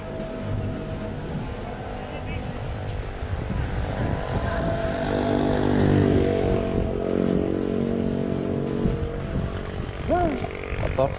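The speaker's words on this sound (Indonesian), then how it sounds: "Ya, inilah motor R6" A 2003 Yamaha R6 sport motorcycle engine runs steadily and loud throughout, its harmonic drone shifting in pitch as it revs, with a rising whine near the end.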